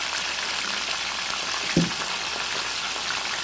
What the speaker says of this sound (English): while my fish is frying.